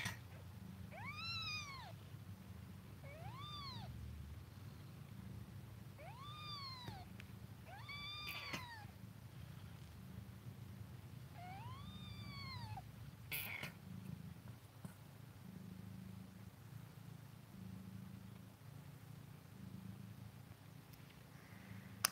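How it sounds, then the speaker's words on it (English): A steady low purr runs underneath as a cat meows five times in rising-falling calls, close to the listener. "Here, you want to listen to her purr?"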